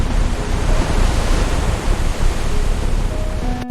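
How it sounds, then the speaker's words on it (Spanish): A roaring, broadband rush of dark river water as a sound effect, a steady dense torrent with no breaks, close and loud throughout. "un río caudaloso de aguas negras que no perdonan"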